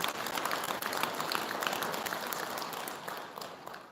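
A Buddhist temple congregation at a Sunday dharma service breaks into sustained applause, a dense, steady wash of many hands clapping close and loud throughout, with no break.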